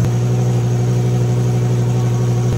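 A wrecked Lamborghini engine runs loud and close, a steady, strongly tonal idle with a deep, even hum and layered mechanical harmonics holding constant without revving.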